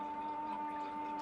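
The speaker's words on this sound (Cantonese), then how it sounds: "大家聽到啲背景聲咧， 就係因為 我哋層樓嗰條水喉好似有啲問題， 個水壓" A building's water pipe howls from a water pressure fault, a steady, unbroken whistling hum that holds the same pitch throughout, fairly faint and continuous in a home kitchen.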